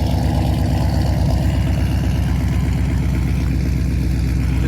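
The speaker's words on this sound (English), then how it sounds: "This is what the car sounds like at idle." A tuned car with a modified exhaust idling nearby, a loud, deep, steady burble with a rapid, even low pulsing that holds throughout, no voices.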